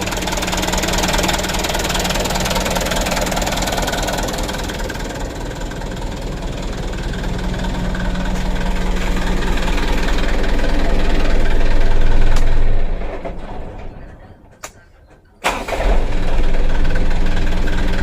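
A new car's engine runs at idle with a rough, uneven knocking rhythm, a loud close rumble that swells slightly, then cuts low for a couple of seconds with a brief blip before returning.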